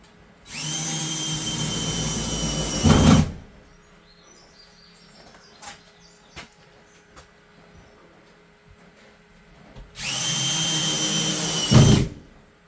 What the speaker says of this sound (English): Kris is going to go back and put in all the rest of the screws